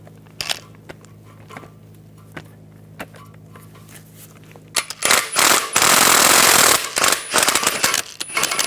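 Metallic clicks and rattles from a 14mm socket and ratchet, then loud rapid ratcheting bursts as exhaust manifold nuts come off a 2013-2018 Hyundai Santa Fe; close, sharp, no talking.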